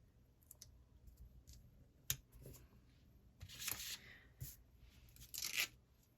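Scissors snipping out Disney Magic stickers for a Walt Disney World 50th anniversary planner spread, giving quiet close clicks and crisp cuts in scattered bursts, with a couple of denser snipping flurries near the end.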